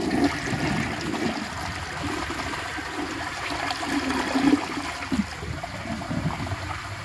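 A 1949 Alamo Pottery toilet flushes with a steady rushing and gurgling of water draining through the bowl, close and continuous for several seconds.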